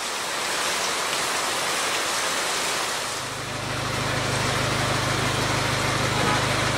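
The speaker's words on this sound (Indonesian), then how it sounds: "lah kok hujan." Rain pours steadily at a balcony in Penang, a dense, constant hiss that fills the whole stretch, with a low hum joining partway through.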